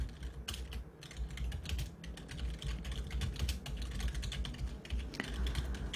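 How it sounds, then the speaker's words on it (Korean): Steady, dense keyboard typing at a computer while data is entered into a spreadsheet, keys clattering close and continuously with no pauses for six seconds. "엔터 치고 자료를 입력을 해주세요"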